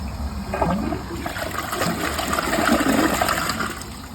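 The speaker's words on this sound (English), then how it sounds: "I like how it has a vacuum assisted flush" A Niagara Stealth vacuum-assisted toilet flushes a washcloth, a loud, close rush of water that swells and churns for about four seconds before easing off.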